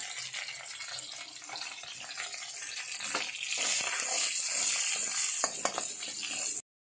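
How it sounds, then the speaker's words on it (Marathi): Green chillies fry in hot oil in a kadhai for a fasting bhagar tempering, giving a close, continuous sizzle that swells louder partway through, with light stirring clicks before it cuts off abruptly. "कढईतलं तेल गरम झाले त्याच्यामध्ये आता मिरच्या टाकलेल्या आहेत तर चांगल्या परतून द्यायच्यात"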